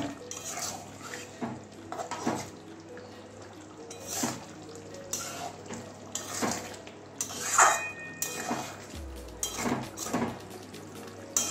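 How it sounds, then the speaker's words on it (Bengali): Egg and pointed gourd curry gets coriander leaves mixed in, with a utensil clinking and scraping against the pot in irregular strokes, close and fairly quiet amid a soft wet background. "ভালো করে মিশিয়ে দিচ্ছি ধনেপাতাটা।"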